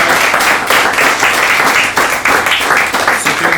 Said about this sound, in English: can I ask you just a round of applause for our